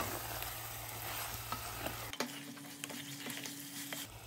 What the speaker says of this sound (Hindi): चिकन डाल के हमें बहुत अच्छे से भूनना है।